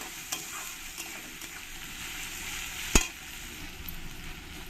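Onions fry in a pan until reddish-brown for a mushroom masala, with a steady broadband sizzle throughout and one sharp utensil clack near the middle.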